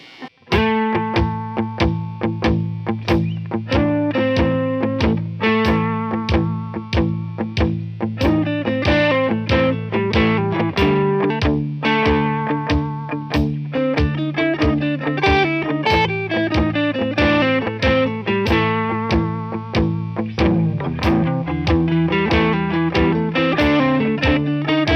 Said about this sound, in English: if I was to just use that blues scale as my framework to solo over this